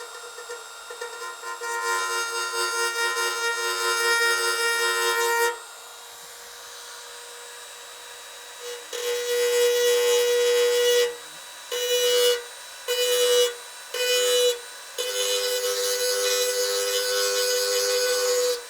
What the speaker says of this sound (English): we'll have to Dremel it and create a little dint